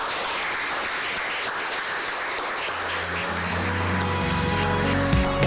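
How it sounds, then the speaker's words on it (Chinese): A class applauds to welcome a new homeroom teacher. The clapping is steady and sustained, and a music track fades in under it toward the end. "那就让我们以热烈的掌声欢迎他来到我们班。"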